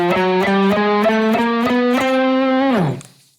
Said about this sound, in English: And if I do that same chromatic scale on the guitar